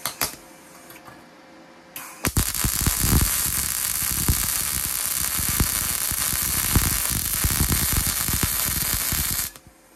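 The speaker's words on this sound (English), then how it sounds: "I'll flip this piece around and we'll do another bead and see how it goes." YesWelder DP200 MIG welder running a bead on 1/8 inch material: after two seconds of quiet, a loud steady crackling sizzle with rapid popping holds for about seven seconds and then cuts off abruptly.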